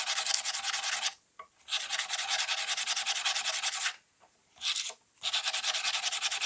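Guitar frets on a Fender Squier Telecaster being polished with fine grit abrasive around 500 and up, a close steady scrubbing rasp in long back-and-forth strokes broken by short pauses.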